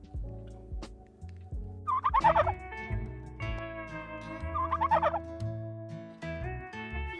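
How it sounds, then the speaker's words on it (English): Turkeys gobble in two loud rattling bursts while pecking at food, with wing and body noises and other close barnyard sounds between the calls. "Say, excuse me, turkeys."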